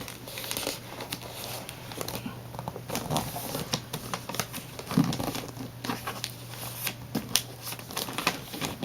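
Wrapping paper being folded and creased around the corners of a present, giving close, soft crinkling and rustling with scattered crisp paper snaps and taps throughout, no voices.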